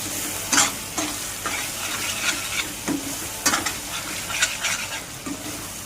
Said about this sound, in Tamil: தக்காளி நல்லா வதக்கிச்சா? கொஞ்சம் வதக்கணும்